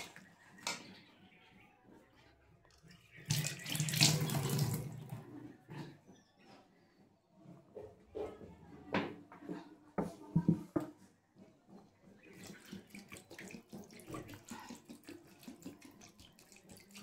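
Water pours in several uneven splashing bursts into a cooking pot of fish and potatoes, with quiet pauses and soft clinks in between.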